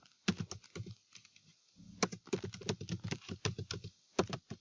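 Keys clatter on a computer keyboard as a username is entered, quick irregular bursts of close, crisp taps with brief pauses between runs, no voices.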